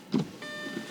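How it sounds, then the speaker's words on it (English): Windshield wipers on an Audi A4 start up with a short thump, followed by a steady, faint electric motor whine that holds at close range. "We have wipers."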